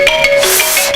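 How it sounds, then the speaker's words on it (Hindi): A mobile phone ringtone goes off during a live-streamed lecture, a short bright electronic melody of repeating tones, loud and close with no talk over it. "मेरा फोन बज गया, साइलेंट पे नहीं था"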